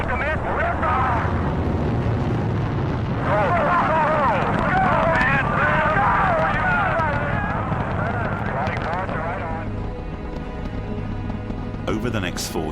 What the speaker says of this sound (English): Launch commit. Liftoff.